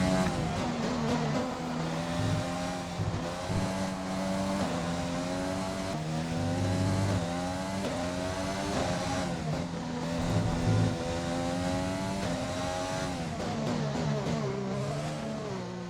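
An F1 car in the F1 2020 video game runs a qualifying lap at the Australian Grand Prix, its high-pitched engine revving up and down through gear changes and corners continuously and loudly throughout.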